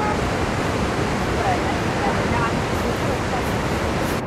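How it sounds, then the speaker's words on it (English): Rushing water from a waterfall partly encased in ice outdoors, a steady loud broadband roar with no breaks from start to finish. "that's ice and that's the waterfall"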